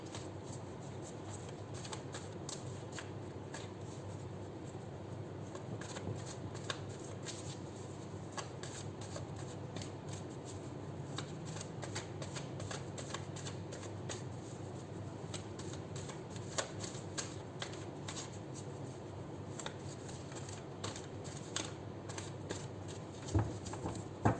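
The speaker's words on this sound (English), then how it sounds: "I'll do 7 shuffles and then we'll take out 6 cards" Tarot cards are shuffled over and over, a soft continuous riffling and patter at close range, fairly quiet, with no voices.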